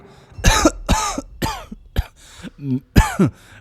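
Several harsh, close coughs in quick succession, with a throat-clearing rasp near the end; no speech.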